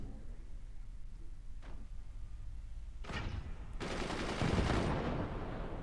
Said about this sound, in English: Those gunners firing with authority.